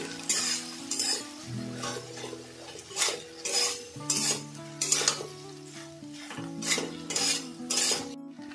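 Taro stolons tossed with prawns, fried onion and garlic in a pan, a spoon scraping and clinking against the metal in repeated strokes over a continuous loud sizzle, with no talking.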